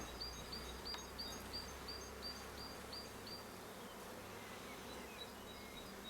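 A steady, faint hum of honey bees buzzing around hives in late April fills the air, with occasional higher whines of individual bees passing and a few distant bird chirps.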